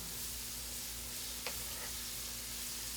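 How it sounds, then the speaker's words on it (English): Chopped herbs, green onion tops and parsley, sizzle in a hot pan for a seafood étouffée, a steady close frying hiss with a faint stir partway through. "Now I'm going to throw in the herbs that I chopped up"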